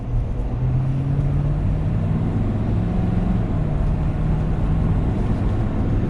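A 2020 Ford Super Duty pickup truck accelerates, heard from inside as a steady, loud low engine drone that rises gradually in pitch over a constant road rumble.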